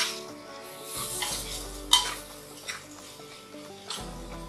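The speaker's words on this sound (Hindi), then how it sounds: "लाल मिर्च, हल्दी, धनिया जीरा पाउडर, बिरयानी मसाला, सॉल्ट। अच्छे से मिक्स करते हैं।" Veg biryani spice mix of red chilli, turmeric, coriander-cumin powder, biryani masala and salt being stirred in a pan over medium heat, with a soft sizzle under scraping spoon strokes and a few sharp clinks against the pan.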